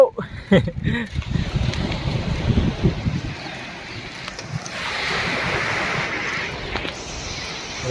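Sea surf rolls in steadily at Arnala beach near Virar, a broad continuous wash of waves mixed with wind buffeting the microphone, with a few brief bumps and sounds near the start.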